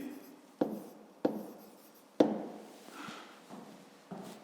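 Pen scratching on paper during a fifth-grade maths exercise, several sharp taps as the pen meets the page followed by short rustling strokes, quiet and close.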